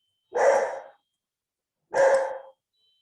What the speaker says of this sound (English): the dogs are barking because there's someone at the door